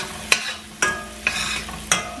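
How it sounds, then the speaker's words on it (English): Onions tossed into a pan with garlic over gentle heat, a continuous soft sizzle broken by four spaced scraping stirs of a utensil, close by with no speech. "I'm going to put a good portion of the onions in here"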